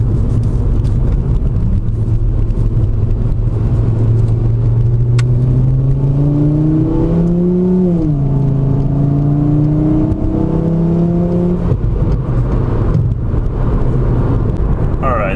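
Interior drone of a car fitted with an aftermarket exhaust cruising around 55 mph: a steady low rumble with a faint rising and falling engine tone partway through, moderate and constant.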